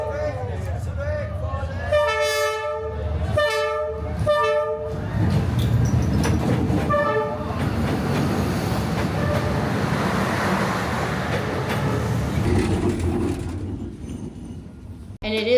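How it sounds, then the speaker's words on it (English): A train passes within inches on Hanoi's narrow train street, horn blasts sounding in repeated bursts before the loud, continuous rumble and rattle of the cars rolling close by, with people talking faintly underneath. "The train really does pass inches from you."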